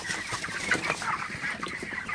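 Broiler chickens cluck and murmur in a poultry shed, a dense, continuous chorus of overlapping soft calls at moderate volume.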